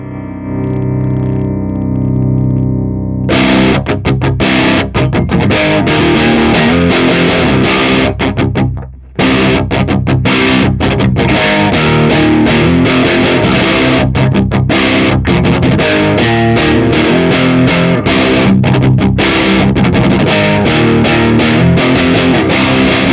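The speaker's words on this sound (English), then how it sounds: "you can actually dial up the volume for the channel and it will break up the tone and add a little bit of saturation to it" An electric guitar plays through an Orange Crush CR120 amp with the clean channel turned up into breakup, giving loud, saturated overdriven chords and riffs that run continuously with one brief pause.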